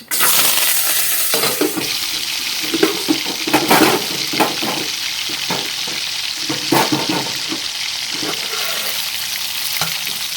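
Onions and curry leaves sizzle and crackle in hot oil, with occasional scrapes and clatters from stirring, fairly loud and close, with no talking.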